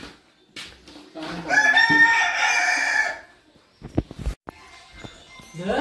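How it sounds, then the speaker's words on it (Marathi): Chickens cluck and a rooster crows loudly near a village home in Kapre, the crow stretching for about two seconds before fading into scattered clucks and short sounds. "कोंबडी बिंबडी आहेत भरपूर,"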